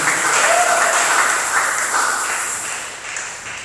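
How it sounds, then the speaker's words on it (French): A church congregation applauds, a dense, loud wash of clapping that fills the space throughout and gradually tapers toward the end. "Acclamons pour la gloire de Jésus."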